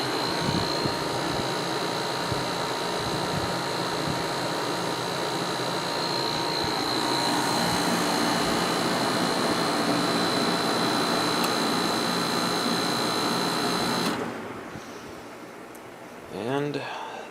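Steady fan whir from a Sharp 10,500 BTU window air conditioner after cleaning and oiling, a smooth broadband hum holding for about fourteen seconds before dropping off, with brief handling noise at the end.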